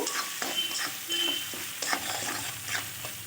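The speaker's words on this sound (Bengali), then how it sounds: "হলুদ আর অল্প চিনি দিয়ে আবারও কিছুক্ষণ নাড়াচাড়া করে নেব" A raw banana curry seasoned with turmeric and sugar is stirred in a hot pan, rhythmic scraping strokes over a soft background sizzle, close and short.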